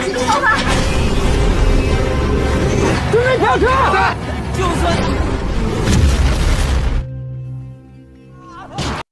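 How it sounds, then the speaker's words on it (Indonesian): Loud, continuous rumbling blasts and crashing noise of a car exploding in a film fill the scene, with shrill whistling tones, then the roar cuts out abruptly, leaving a low hum. "Sasa memutuskan meledakkan mobil tersebut"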